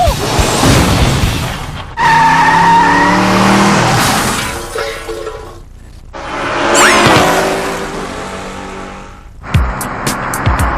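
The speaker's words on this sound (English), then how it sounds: "Canada's worst drivers learn how to do a controlled spin out using their handbrake." A car skids and spins through a controlled handbrake J-turn, with loud tire squeal and engine noise rising and falling in a couple of sweeping bursts before ending abruptly.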